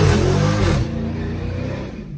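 Wrecked Dodge Charger SRT 392 with its 392 V8 revving up close, a loud rising engine roar that drops to a lower rumbling idle partway through.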